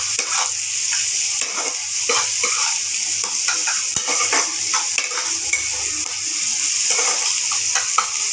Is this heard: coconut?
yes